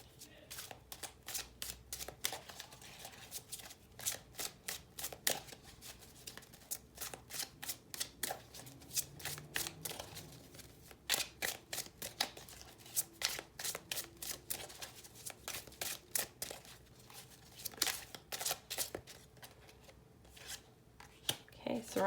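Tarot cards shuffled by hand at close range, a long run of quick crisp riffling flutters and snaps repeating in irregular bursts, fairly quiet throughout.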